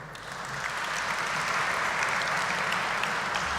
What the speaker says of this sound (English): I think deserves a round of applause